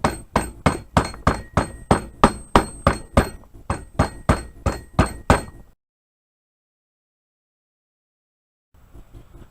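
Plastic end of a hammer tapping a pin into an SKS rifle's extended magazine release: a long run of steady, close, sharp knocks, a brief pause, more blows, then silence and a faint rustle.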